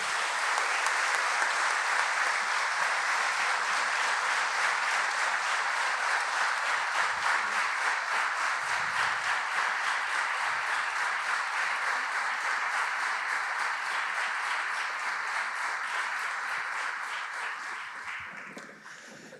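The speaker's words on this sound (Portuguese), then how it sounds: "Uma salva de palmas para eles." Sustained applause from a concert audience for philharmonic band musicians at an autumn festival concert, dense steady clapping for nearly twenty seconds before thinning out at the end.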